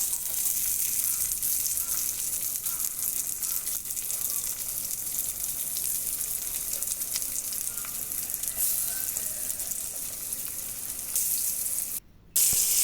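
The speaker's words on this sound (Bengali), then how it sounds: "এখন মাছগুলো ভাজবো।" Fish frying in a pan of oil, a loud, dense, continuous sizzle and crackle that barely varies in strength and cuts out briefly near the end, with no voices over it.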